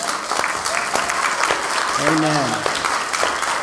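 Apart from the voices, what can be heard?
church congregation applause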